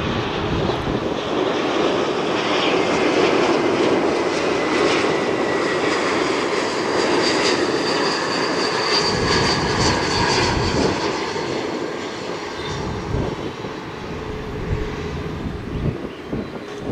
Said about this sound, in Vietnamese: chiếc máy bay được lệnh lên đường băng 25 trái